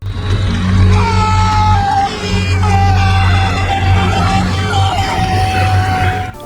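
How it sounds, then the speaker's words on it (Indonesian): Frantic screaming from a character in the 2024 horror film The Inheritance, loud wavering cries rising and breaking over a deep, steady droning score, sustained and near throughout. "Drew dan Hannah yang mendengar suara teriakan CJ"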